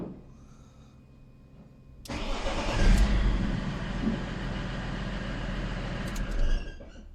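A BMW E46 330d diesel engine cranks and fires up after a couple of quiet seconds, then settles into a loud, steady idle close by with a brief rev swell partway through.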